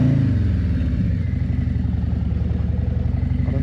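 A Harley-Davidson motorcycle on a careful test ride, its engine a steady, loud, throbbing rumble that stays close and continuous throughout with no voices over it.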